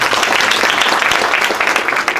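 At a university public lecture, an audience applauds the professor with dense, steady clapping from a large crowd, loud and sustained throughout.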